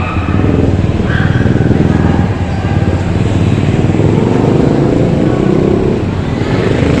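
Motorcycles pass by on a street in the Philippines, a steady loud engine roar with rising revs that holds for the full stretch, along with traffic noise.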